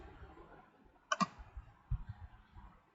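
Two sharp computer mouse clicks sound about a second apart, crisp and close, over a quiet room hum while someone works through a PostgreSQL table.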